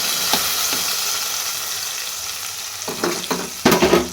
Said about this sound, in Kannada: ಈಗ ಗೋಡಂಬಿ ಮತ್ತು ಬದಾಮನ್ನ ನಾನು ತುಪ್ಪದೊಳಗೆ ಫ್ರೈ ಮಾಡ್ಕೊತೀರಿ